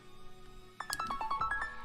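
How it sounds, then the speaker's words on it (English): A phone ringtone sounds on its own as a short run of bright melodic tones over a low, quiet background hum. "oh no, phone's ringing."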